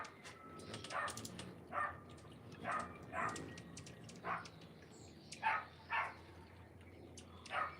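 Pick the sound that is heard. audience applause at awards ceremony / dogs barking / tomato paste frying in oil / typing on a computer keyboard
dogs barking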